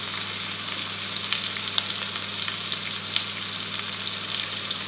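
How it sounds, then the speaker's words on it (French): Chicken curry strips sizzle and crackle steadily in a hot pan as they are stirred, with occasional scraping of the utensil. "On remue."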